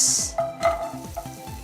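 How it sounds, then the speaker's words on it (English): Onions sauté in a teaspoon of oil in a pan, a steady close sizzle with a few scraping stirs of the spatula, no voices. "meanwhile ఇక ఈ onions fry చేస్తున్నాను"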